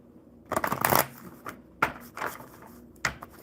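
Urban Crow Oracle cards, a well-worn deck used for years, being shuffled by hand: three bursts of riffling and slapping, the first long and dense, then two shorter flurries, close and crisp with no talking.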